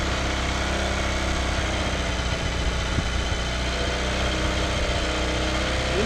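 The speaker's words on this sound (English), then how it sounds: "Engine sounds good." A motorcycle engine idles steadily and close by, a continuous low mechanical chug with constant vibration and no revving, holding an even level throughout.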